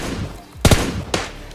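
Two short bursts of M4 rifle fire from the mobile game PUBG Mobile, a quick pre-fire volley followed by a single sharper shot about half a second later, loud against quiet game ambience.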